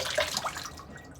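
Water runs and splashes at a sink while shaving gear is rinsed after a shave with Williams mug soap, a steady close hiss of flowing water that tapers off near the end.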